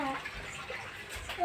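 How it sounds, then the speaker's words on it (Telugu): Water runs from a tap in a bathroom, a moderate, steady splashing flow heard close up under people talking. "మరి వాటర్ వస్తున్నాయి చూసావా?"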